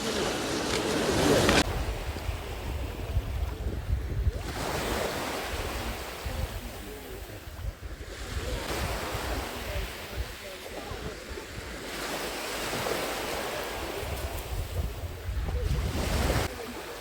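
Sea waves roll onto the beach at Chornomorka in repeated surges every few seconds, each rising and then fading, with gusty wind buffeting the microphone throughout.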